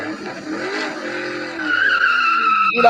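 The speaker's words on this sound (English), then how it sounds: "So I can hear that car just taking off." A car pulling away hard with tires skidding and squealing, a rising screech of rubber over engine noise that swells louder midway through and holds steady, close and alone without talk.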